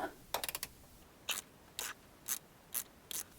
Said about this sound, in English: Now we can take that whole filter housing off with the filter housing socket